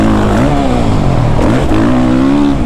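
A Suzuki RM-Z 450 dirt bike engine revs loud and close, its pitch rising, dipping briefly, then climbing again in a steady throttle pull, with no voices over it.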